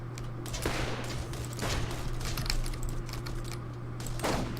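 Gunfire from shooting enemies in Borderlands, a few sharp shot bursts scattered over a steady game background hum, fairly quiet and in a loose irregular rhythm with no speech.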